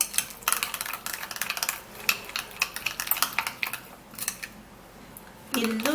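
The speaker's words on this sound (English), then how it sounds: "we would have to be giving this a stir" A rice and sugar anti-aging face pack stirred in a bowl, giving a steady run of quick scraping clicks, close and fairly crisp, with a voice starting briefly at the end.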